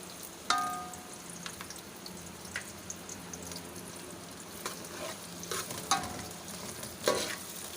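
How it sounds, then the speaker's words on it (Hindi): Onions sautéing in a pan for hari mirch keema, a low steady sizzle broken by occasional scrapes and stirring clinks, close and fairly quiet. "हमने प्याज को बस थोड़ा सा सौते करना है।"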